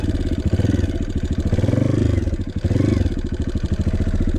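Dirt bike engine running steadily through a tight turn, a loud close mid-pitched drone with a rapid pulsing beat and a brief dip partway through, no talk over it.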